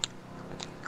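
A person chewing food close to a microphone, giving a couple of brief, crisp crunching bites in a short burst with no speech.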